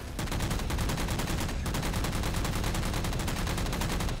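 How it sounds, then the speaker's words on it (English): Continuous rapid gunfire in Halo 4 multiplayer, long-range shots aimed at Mantis mechs, a steady dense rattle of loud shots with no pauses or talking. "I'm long range shooting their Mantises right now"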